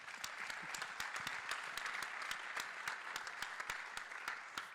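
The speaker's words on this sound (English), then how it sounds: "I think you need to give them a round of applause for that" A room full of people applauding after a call to honor organizers who fought anti-CRT bills, at a Brown v. Board of Education 69th anniversary celebration; steady, dense clapping from a sizable crowd with no voices.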